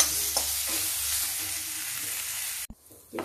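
Spinach, chili and garlic fry and crackle in a pan, a steady dense sizzle with occasional stirring clinks, running loud and continuous before cutting off abruptly near the end.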